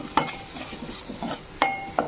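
A spoon stirs chili powder into a broad bean curry in a pan, with a few sharp metallic scrapes and taps over a soft background sizzle.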